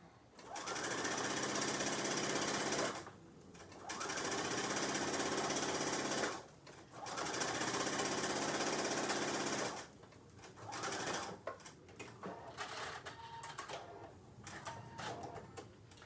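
A sewing machine stitches a line on classic pajama pants in three long, loud, steady runs separated by short pauses, followed by quieter handling of the fabric.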